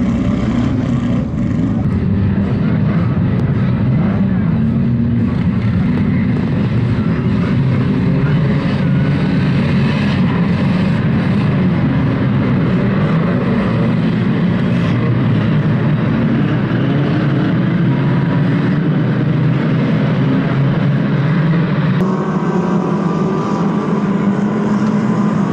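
A pack of around 40 two-litre national banger race cars roar around the Kings Lynn oval in the first heat, a dense continuous engine drone that stays loud throughout, with a faint tannoy-like murmur underneath.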